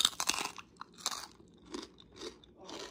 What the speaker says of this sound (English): let's try the crunch